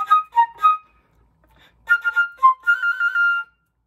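Close solo flute plays two brisk echo phrases, three crisp notes, a short pause, then a quicker run of notes that ends on a sustained tone.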